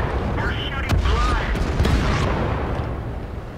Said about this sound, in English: Ooh, an ammo, a very lucky ammo rack there.